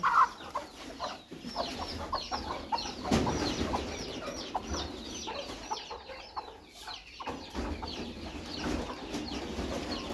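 A small flock of hens clucks on and off around a farm coop during morning chores, soft overlapping calls near and farther off, with no one talking.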